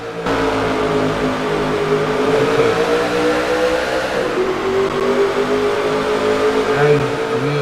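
Several race cars roaring past under green-flag racing in an O$CAR Sprint Cup Series race at Los Angeles, a loud steady engine drone with a pitch drop midway as cars pass.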